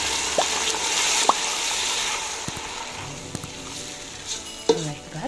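Tomato puree goes into a hot pan of bell peppers and onions for a Kenyan tilapia stew, bringing a steady close sizzle and fry with a few stirring scrapes and utensil clicks on the pan.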